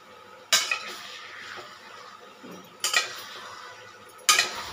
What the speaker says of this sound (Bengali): এরপর এটাকে ভালো করে খুন্তি দিয়ে নাড়াচাড়া করে নেবে।